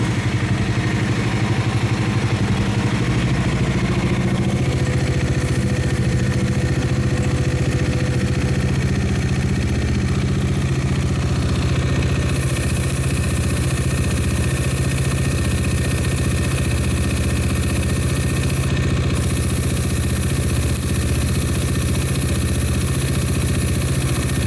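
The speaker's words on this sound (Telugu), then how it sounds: "ఇంజన్ వేడెక్కుతుంది బాగా" A motorcycle engine idling and warming up, a steady low rumbling drone that holds evenly for the whole stretch, close and loud, with no talk over it.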